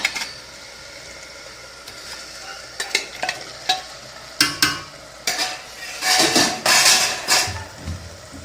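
Mutton pieces go into ground masala paste frying in a pan for mutton kuzhambu, giving a loud hiss and sizzle with repeated scraping stirs of a utensil against the pan, the sizzle surging louder toward the end.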